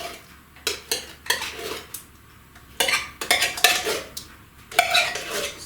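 Canned pumpkin scooped from a 15-ounce can into cake mix, a spoon scraping and clanking against the metal can in short bursts with brief quiet gaps between.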